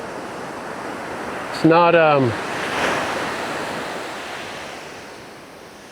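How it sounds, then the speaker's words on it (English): Ocean waves break on a steep shelf at Big Lagoon, California, making a broad steady wash of surf with wind noise. A brief spoken phrase cuts in near the start, then the roar slowly fades. "You can see how closely those waves break."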